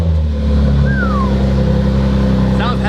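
A 2019 Audi RS5 engine, rebuilt after heavy damage, roars loudly and steadily up close, revving hard with a dense, throaty growl throughout.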